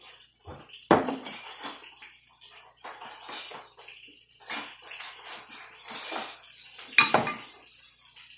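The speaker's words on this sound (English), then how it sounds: "So we're gonna take, put these on the plate." Seasoned French fries are set onto a plate: a few light clinks and soft clattering taps of food and utensils against the dish, close and sparse with quiet gaps between.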